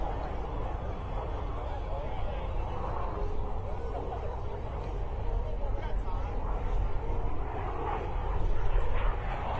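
A military jet performing loops and rolls at the Warriors Over the Wasatch air show at Hill AFB, its engine roar steady and loud throughout, swelling slightly near the end, with crowd noise faintly beneath.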